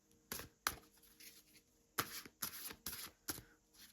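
Oracle cards are shuffled by hand, with quick papery riffles and slaps in short irregular bursts, close and quiet with no talking.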